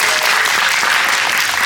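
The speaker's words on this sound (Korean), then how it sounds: "박수 한번 부탁드립니다." A cinema audience applauds steadily during a guest visit screening of the Korean film Firefighters at CGV Yongsan, a thick unbroken wash of clapping from start to end.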